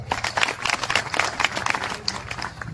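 An audience applauds at a kirtan gathering, steady dense clapping from many hands, moderately close and sustained throughout.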